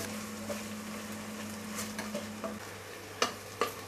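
Crushed garlic sautéing in a pan before mutton goes in, a soft, fairly quiet sizzle with a few light utensil taps and two sharper clinks near the end, alone without talk.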